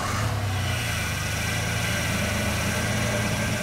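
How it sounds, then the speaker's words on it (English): A Mazda B3000 with a failing power steering pump gives off a continuous low groaning drone over the running engine, steady and close, with no talk. "this gives you a perfect example of a power steering pump making a groaning noise"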